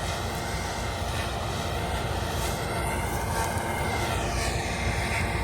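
A rotary combine harvester runs through a weed-choked green pea field, giving a steady, loud, close mechanical roar and rumble that holds without a break for the whole stretch, with no talking.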